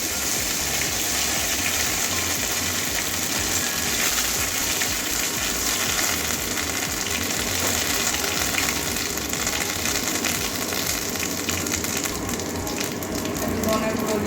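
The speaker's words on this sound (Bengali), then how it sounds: "তেলটা গরম হয়ে গেছে দুটো তেজপাতা দিয়ে দিচ্ছি ফোড়নে দিয়ে দিচ্ছি" Bay leaves hit hot oil for tempering a milk and bottle gourd dish, a steady close hissing sizzle with bubbling that carries on evenly throughout.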